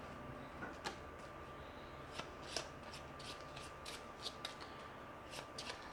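Playing cards from the Dominion card game are shuffled close by, a quiet run of soft riffling snaps and sliding card taps in uneven bursts over a faint background hum.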